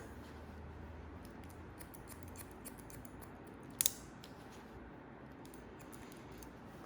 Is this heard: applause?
no